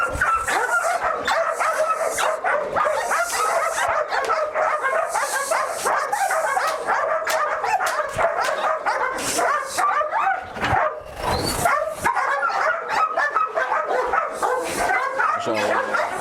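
Malinois dogs at a farm during bite-shield training, with repeated barks and yips in dense overlapping bursts, loud and close throughout, while people talk in the background.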